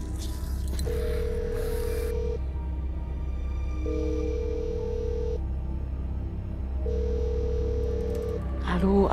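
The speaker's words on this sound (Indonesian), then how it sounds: "Saya telepon dulu deh customer-nya." An outgoing call's ringback tone repeats three times as a steady beep pattern with pauses, heard over a phone while a ride-hailing driver calls a customer, with steady background hum and a bit of nearby sound.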